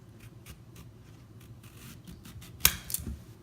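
Vegetable peeler slicing thin strips from a fat zucchini, soft rhythmic scraping strokes close by, ending in a sharper louder cut near the finish.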